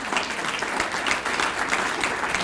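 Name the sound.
audience applause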